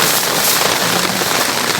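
Rain falls on a tent on Mount Ciremai in a dense, steady hiss of drops hitting the fabric, loud and close throughout, with no voices.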